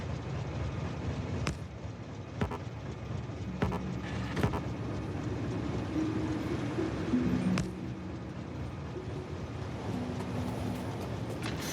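A train rolling along rail lines in Factorio: Space Age, a steady low rumbling drone with faint clicks and soft tonal hums over a continuous mechanical bed.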